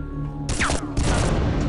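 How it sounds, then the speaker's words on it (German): A sudden burst of explosive crashes as bottles blow up in Unreal 2: The Awakening, with a bright shattering rush over constant game background noise, repeated twice in quick succession. "Die Flaschen können, glaube ich, explodieren."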